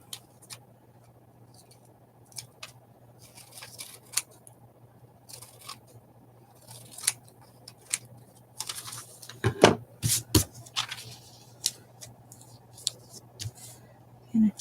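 Scissors trim a sheet of paper in a few quick, close snips clustered near the end, with light handling taps scattered before them over a steady low electrical hum.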